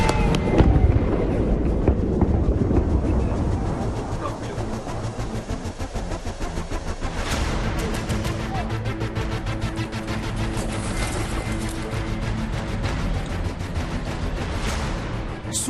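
Explosions from attacks in Ukraine produce a dense, continuous crackle of rapid blasts and rumbles that stays loud throughout, heavier at the start.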